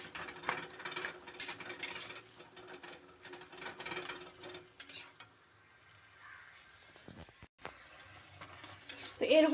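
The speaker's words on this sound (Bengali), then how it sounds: "এখন ভালোভাবে এরকম কষিয়ে নেব" Taro leaves stir-fried with chili powder in a pan, a busy scraping and sizzling texture with irregular stirring clatter that thins out midway, then picks up again at the end, close and moderately loud, with faint voices in the background.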